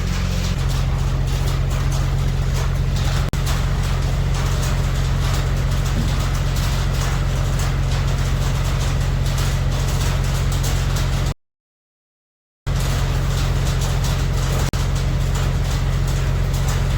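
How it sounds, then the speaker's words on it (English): A dump truck engine idles nearby in a workshop, giving a constant heavy low rumble and steady broadband noise that breaks off briefly partway through, then resumes unchanged. "got the dump truck running at the moment"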